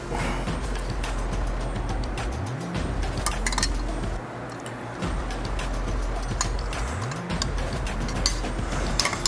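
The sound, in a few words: tightening air cleaner bolts on a Harley Road Glide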